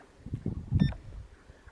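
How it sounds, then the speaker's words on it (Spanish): A Toslon TF500 fish finder sounds a single short electronic beep while its menu is navigated, surrounded by soft handling bumps in a quiet setting. "el ruido que hace cuando te estás moviendo por el menú o modificando algo"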